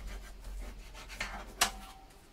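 Scored patterned paper from a 6x6 pet-themed craft pad has its backing peeled off for a mini album. A soft, quiet rustle builds, then a brief, sharp rip near the end.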